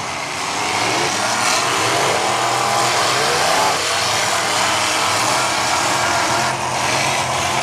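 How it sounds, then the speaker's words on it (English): Demolition derby car number 72 with a strong-running motor, its engine droning steadily and loudly throughout amid outdoor arena noise. "Got a good motor under the 72. That thing runs."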